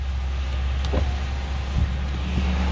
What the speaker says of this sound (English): all the windows go down